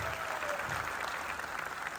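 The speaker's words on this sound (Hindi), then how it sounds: "इतनी कम तालियों से मजा नहीं आएगा दोस्तों" Applause from an audience at a business event rises in a dense, steady wash of clapping that holds evenly for the whole two seconds, moderately distant and without pause.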